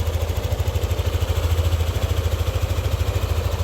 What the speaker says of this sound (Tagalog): Kumbaga ito yung pinakatunog ng makina.